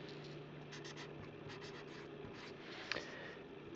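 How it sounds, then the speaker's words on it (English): Pen or marker writing a triangle similarity statement, a steady soft scratching that runs continuously at low level, with a small bump near the end and no talk over it. "I'm going to write my similarity statement"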